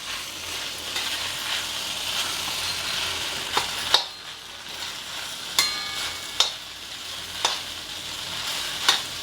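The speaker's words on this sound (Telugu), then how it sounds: "కొంచెం వేయించుదాం." Idli upma frying in a pan, a steady broadband sizzle running throughout with sharp spatula scrapes and knocks at irregular intervals as it is stirred; no voices.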